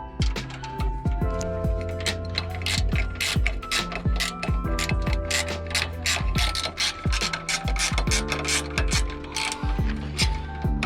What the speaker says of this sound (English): wind the bolts in